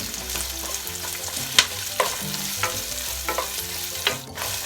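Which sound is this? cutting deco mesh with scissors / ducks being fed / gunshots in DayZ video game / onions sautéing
onions sautéing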